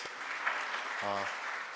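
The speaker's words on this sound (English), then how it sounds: "Just give a round of applause for him to come visit us" Audience applause at a university lecture event in Pune, a short burst of steady clapping from a seated crowd, with a brief voice cutting through near the middle.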